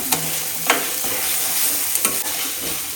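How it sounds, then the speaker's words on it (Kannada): Ginger garlic paste frying in oil for egg rice gives a steady close crackling sizzle with a few sharp scraping clicks of stirring, and no voices. "ಶುಂಠಿ ಬೆಳ್ಳುಳ್ಳಿ ಪೇಸ್ಟ್ನು ಹಾಕಿ ಚೆನ್ನಾಗಿ ಫ್ರೈ ಮಾಡ್ತಾ ಇದ್ದಾರೆ"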